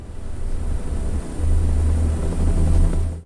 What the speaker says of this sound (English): The sound of the helicopter cut through the morning silence before I even saw it, the rotating blades creating an unmistakable noise